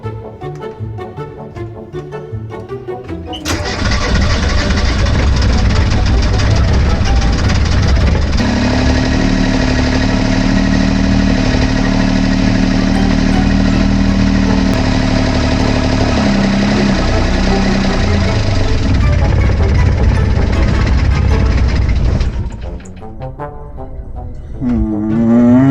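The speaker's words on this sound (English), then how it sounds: "I managed to get the engine running" A Perkins three-cylinder diesel engine cranks, catches and runs at a loud, steady, close idle with a throbbing clatter for about twenty seconds before shutting down.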